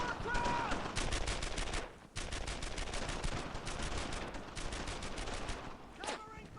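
Rapid gunfire bursts from the World War II shooter Brothers in Arms: Earned in Blood, a dense fusillade of rifle and machine-gun shots crackling nearly nonstop with a brief pause midway and a single sharp shot near the end.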